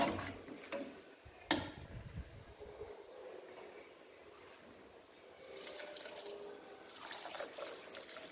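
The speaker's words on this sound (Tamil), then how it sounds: "தேவையான அளவுக்கு தண்ணி விட்டுக்கலாம்." Water pours and splashes steadily into a cooking pot of rice and lentils, a continuous rushing liquid sound, fairly close, with a clunk near the start.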